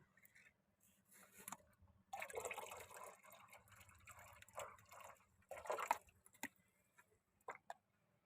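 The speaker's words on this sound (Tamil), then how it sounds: "அந்த தண்ணியை அழகாக வடிகட்டி எடுத்துக்குவோம்" Pond water being poured slowly and strained through a filter during a fish-collecting outing, with faint intermittent splashing and trickling bursts separated by quiet pauses.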